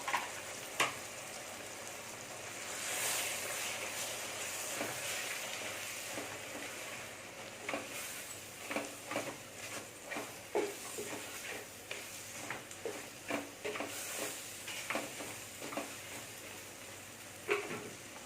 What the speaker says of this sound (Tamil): லேசாக வதக்கி விட்டுருங்க கொஞ்ச நேரம் ஒரு நிமிஷம் வதக்குனா போதும்